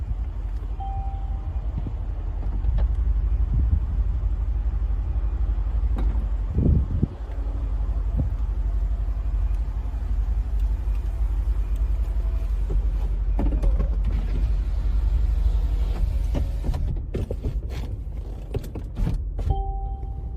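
The convertible roof of a Mercedes C-Class AMG runs through its motorized movement, a low mechanical hum with soft whirring and a few clicks and thunks as it opens and closes.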